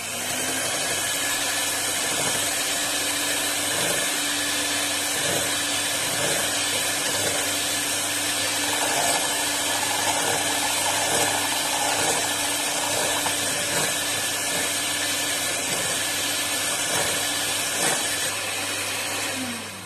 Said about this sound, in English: So I'll start beating the egg yolk.